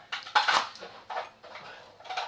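A knife cutting shallots on a board in a home kitchen, a handful of short, sharp clacks and scrapes spaced irregularly, close and moderately loud.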